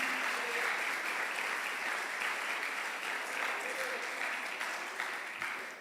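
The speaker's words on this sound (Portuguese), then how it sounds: "Vai aplaudir, então vamos aplaudir todo mundo junto." A church congregation applauds together in a dense, steady wash of clapping that fills the room, loud and continuous before tapering slightly at the end.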